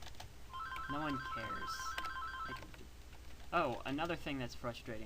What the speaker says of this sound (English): That is my phone. I am not picking that up.